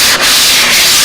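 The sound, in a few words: sandpaper sanding doped model airplane surface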